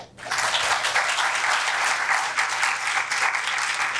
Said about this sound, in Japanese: 皆さんあの大きな拍手であのお見送りください